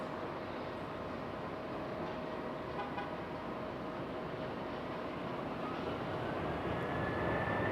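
A United Airlines Boeing 737 taxis at Raleigh-Durham airport, a steady broad engine rumble and whine that holds for the whole stretch, growing slightly louder near the end, with a faint tonal hum running through it.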